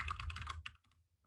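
Fingers tap quickly on a computer keyboard for a Google search, a short close burst of keystrokes followed by a couple of fainter isolated clicks.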